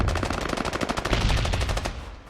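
Rapid automatic gunfire in the video game Ring of Elysium, a tight burst of evenly spaced shots lasting about two seconds before cutting off and fading.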